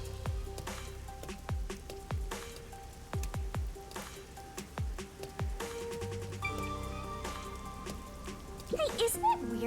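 Rain falls in Master Detective Archives: Raincode as a soft, constant patter of drops heard faintly under game music and scattered sound effects.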